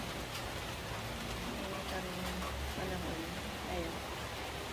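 Steady rain hisses on surfaces at a wet market in San Pablo City, a dense, continuous patter with no pauses.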